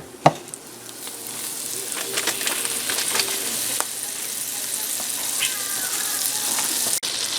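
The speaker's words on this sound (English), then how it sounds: "the first thing we're going to do is melt down a stick of butter" A stick of butter melts in a pan on the stove, giving a soft steady sizzle with a few light clicks and a clunk near the start, close and continuous.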